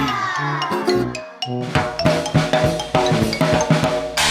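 A toy drum set is played in a quick pattern of bright hits and thumps, mixed with ringing tones, loud and close with no talking.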